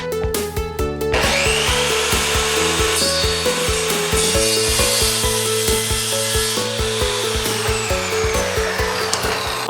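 A hand saw trims the edge of a pegboard with fast, even back-and-forth strokes. The sound is loud, close and rhythmic and continues throughout with no talk.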